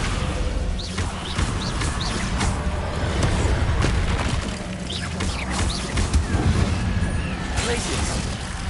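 Slamming spell in a fantasy video game on PS5, heavy crashing impacts and shattering debris across several seconds, loud and close amid layered game effects.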